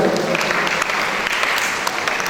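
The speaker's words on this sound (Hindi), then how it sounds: "ताली नहीं बजाओगे क्या आप लोग?" Applause from the congregation at a Jain religious gathering with monks, a dense, steady patter of many hands clapping close by, continuing evenly throughout.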